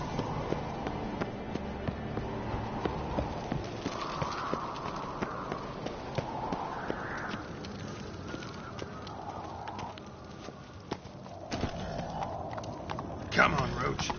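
The horse Roach moving along in The Witcher 3, its hooves making a repeated clip-clop under steady male speech, with bird calls and ambient game sounds around it at moderate volume.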